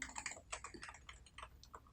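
Typing on a quiet-version Realforce keyboard, an expensive keyboard, a quick run of soft, close keystrokes in an uneven rhythm, fairly faint and with no talking.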